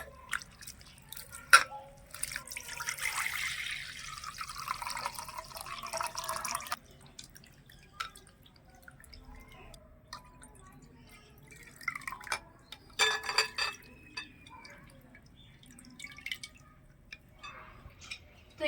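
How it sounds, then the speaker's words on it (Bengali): Flattened rice (chira) is rinsed in water by hand, with splashing swishes early on, then sparse drips and small watery clatters with pauses, quiet and close, and no talking heard. "একটু ভালো করে ধুয়ে নিতে হবে চিড়েটা"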